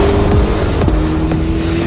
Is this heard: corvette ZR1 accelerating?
yes